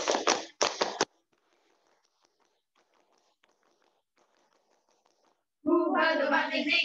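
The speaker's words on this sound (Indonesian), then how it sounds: "2 kali tepuk pramuka." A group performing the scout clap twice, each round a quick burst of sharp, closely packed hand claps, the two bursts separated by a short gap, followed by a long quiet stretch and then voices.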